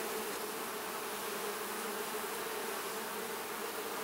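A dense, steady swarm of honeybees drones around an open beehive, a close, continuous buzzing hum that holds unchanged throughout with no voices over it.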